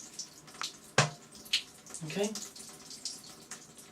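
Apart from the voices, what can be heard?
water running from a tap into a basin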